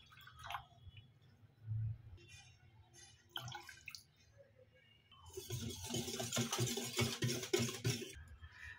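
Water pours into rice flour batter for chhita roti, first a few faint drips and splashes, then a sustained close splashing stream for several seconds that stops near the end.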